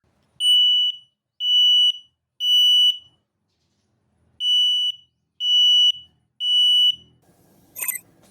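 Two sets of three shrill, high electronic beeps from a Daytech SM06TA smoke alarm in self-test, evenly spaced and loud, with a brief handling clatter at the end.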